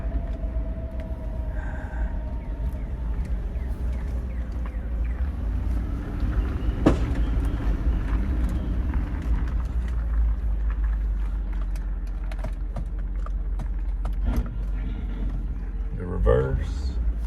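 A 2004 Land Rover Discovery drives off-road in low range with the differential locked, its engine making a steady low rumble as it turns. A few brief knocks and rattles come near the end.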